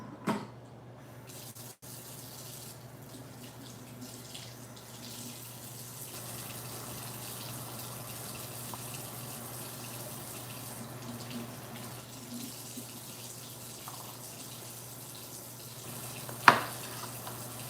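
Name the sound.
rinsing cod fillets under a running kitchen tap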